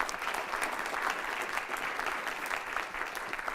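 Steady, dense applause from an audience at a team award presentation, continuous and even for a few seconds with no pauses.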